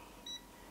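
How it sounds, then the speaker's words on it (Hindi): A Sunshine DT17 digital multimeter in buzzer mode gives one short, clear electronic beep lasting about a tenth of a second, heard alone against a quiet background. "बजर मोड का एक बार बीप सुनाई सुनवाते हैं आपको"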